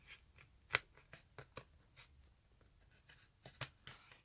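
Scissors snipping around a paper cut-out for a handmade journal, a string of short, faint crisp cuts close by with one sharper snip and quiet gaps between.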